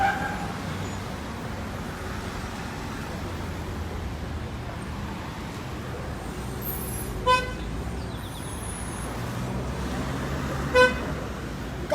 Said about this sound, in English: Come truck man, give me my horn.